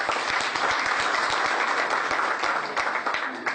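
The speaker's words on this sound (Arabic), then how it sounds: "تصفيق آخر" Theatre audience applause at a regional theatre ceremony in Constantine, a sustained, moderately loud burst of many hands clapping together with a few sharper individual claps standing out.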